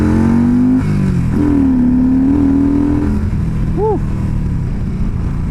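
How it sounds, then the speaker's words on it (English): Motorcycle ridden on a road on a first day back on the bike, its engine droning steadily up close with shifting revs and constant wind noise, and a brief high warbling tone near the end. "trying to just get reaccustomed to being on a bike"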